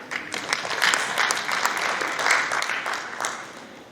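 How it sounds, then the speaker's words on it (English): Applause from an assembly audience at an inter-religious council's consultative meeting, a steady wash of many hands clapping at moderate distance, rising and falling slightly for about four seconds with no talk over it. "Please clap for them."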